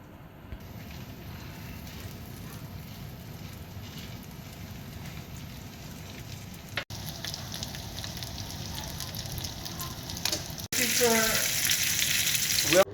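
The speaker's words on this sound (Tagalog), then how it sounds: "Ug amo nang pritohon ang salmon." Salmon fries in a hot pan with butter, a loud continuous sizzle and crackle that stays steady and grows more intense toward the end, with a few abrupt cuts.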